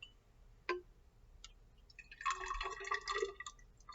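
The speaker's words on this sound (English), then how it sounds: "take my water and pour 20 milliliters" Water poured from a container into a laboratory beaker to measure 20 milliliters, a brief trickle and splash after a single tap of glass, quiet and close.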